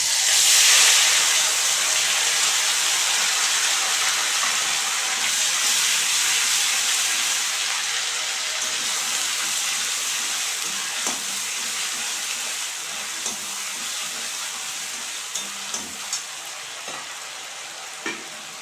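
A paste of cumin and chili soaked in hot water is tipped into hot oil in a pan while cooking a koi fish dish. It sets off a loud, steady, close-up sizzle and hiss that slowly eases, with a few faint clicks near the end.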